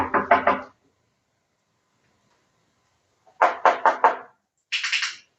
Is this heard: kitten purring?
no